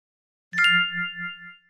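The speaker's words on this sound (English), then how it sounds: "The dog's bell." A dog's bell rings once with a bright metallic strike, then its tone rings on and slowly fades, clear and close against silence.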